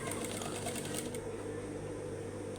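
A sewing machine stitches a skirt's elastic waistband in a fast, even rattling run, close and steady, easing slightly toward the end.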